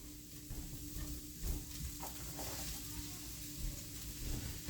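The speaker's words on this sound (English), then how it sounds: "we gotta saute all of this, mushrooms and onions and such" Mushrooms and onions sizzle and crackle steadily in a pan as they saute, with occasional stirring clatter and a low continuous hiss throughout.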